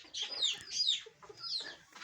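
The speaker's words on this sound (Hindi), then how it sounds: "एक मुर्गी मेरे सामने अंडा देकर चली गई है।" Egg-laying hens cluck close by in repeated bursts of throaty, rising calls, with no talking.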